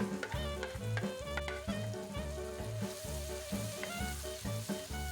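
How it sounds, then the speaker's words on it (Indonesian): Shallots and onion sauté in hot oil with a continuous close sizzle and occasional stirring, partly beneath rhythmic background music. "Kita tumis bawangnya ini sampai dia harum dan matang ya bunda-bunda."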